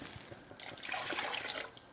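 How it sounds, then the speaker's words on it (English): Two cups of water pour into a homemade beef enchilada sauce, a soft liquid splash and gurgle that rises for about a second, then eases off. It is faint and close, with no voices. "we're gonna add 2 more cups of water"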